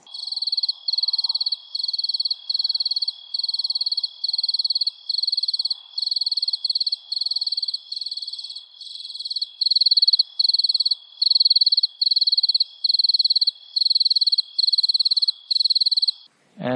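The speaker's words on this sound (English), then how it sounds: "one really loud cricket" A single loud cricket chirps in steady, evenly spaced pulses, close and piercing, continuing alone against near silence.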